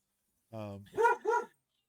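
A dog barks close by, a drawn-out whine-like yelp followed by two sharp barks in quick succession, with nothing else around it.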